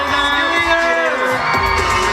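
Fans at a WayV Phantom special event and fan signing cheer and applaud together, a dense, steady crowd roar with excited whoops and shouts mixed in, sustained for the whole moment.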